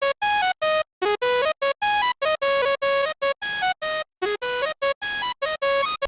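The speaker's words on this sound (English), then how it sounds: "This Haas plugin kind of makes the lead just sound like a little bit wider" A bright, buzzy synth lead plays a fast staccato melody of short chopped notes, loud and alone, heard twice in a row, once dry and once widened by a Haas stereo effect.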